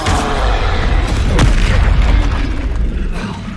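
Spell blasts in the Hogwarts Legacy video game burst into a loud, dense roar of booming explosions that fills the whole stretch, with one sharper crack near the middle and no pauses.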